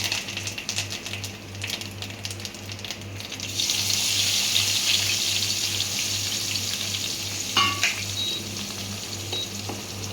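Stale leftover rice sizzles and fries in a hot pan while being tempered, a steady loud hiss with a rhythmic low hum underneath and a few brief metallic scrapes near the end.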